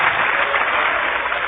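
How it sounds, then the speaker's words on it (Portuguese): A church congregation claps together during a worship service, a dense, steady wash of applause at close range lasting the whole moment with no voices over it. "Aplaude mesmo."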